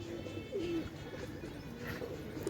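Pigeons coo on a rooftop loft in a steady low murmur, with soft wing flutters and background ambience throughout.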